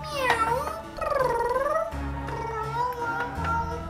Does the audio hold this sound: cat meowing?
yes